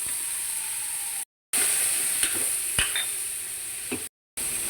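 Ground meat sizzles steadily in a pan with onions and peas for a Filipino pechay sauté, a constant close hiss with a few soft stirring scrapes and clicks.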